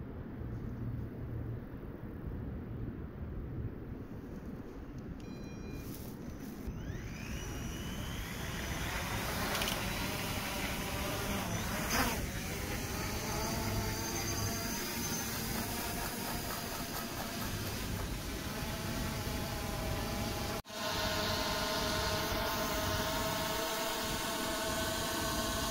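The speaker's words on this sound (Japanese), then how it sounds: "このメッシュ銅板をドローンで100メートル上空に持ち上げます。" A drone lifts a copper mesh plate skyward on a cable, its rotors building from a hiss into a steady loud whine with rising and falling tones that holds for over twenty seconds.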